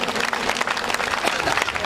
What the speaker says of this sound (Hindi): ताली बजा दो बार इनके लिए